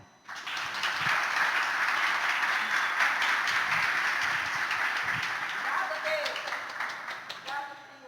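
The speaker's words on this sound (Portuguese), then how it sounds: "Vamos aplaudir as mães?" A church congregation applauds mothers with sustained, even clapping from many hands that runs for several seconds and tapers slightly toward the end, with faint voices mixed in.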